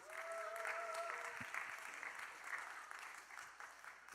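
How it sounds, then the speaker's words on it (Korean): Congregation at a Sunday young-adult church worship service clapping steadily for a brother called up front, a dense, moderately distant patter of many hands with faint voices mixed in. "우리 박수로 맞이하도록 하겠습니다."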